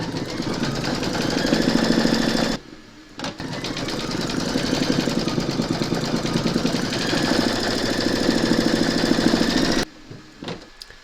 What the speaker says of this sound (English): Load your thread colour for the word Merry Christmas into your machine and then stitch round